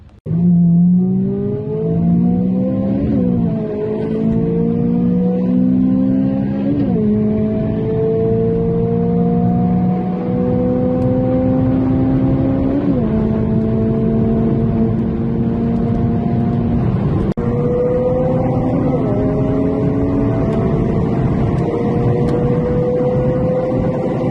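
Stock Honda Civic Type R race engines, FN2 versus EP3, in a head-to-head run: loud sustained engine drone with rising pitch through the gears, brief dips at each shift, no talk.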